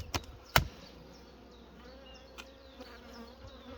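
A dense, steady hum of many honeybees buzzing nearby, broken by two sharp knocks early on and faint clicks later.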